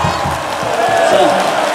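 Dense stadium crowd roaring and cheering at a Hanwha versus LG professional baseball game in the ninth inning, a steady wash of massed voices with a nearer voice rising over it.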